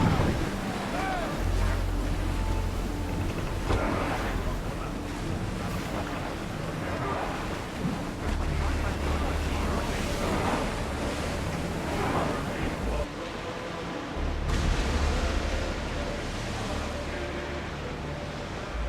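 A ship sailing across the open sea in Assassin's Creed Odyssey, with steady rushing wind and surf washing continuously around the hull and a low rumble underneath, loud and unbroken throughout.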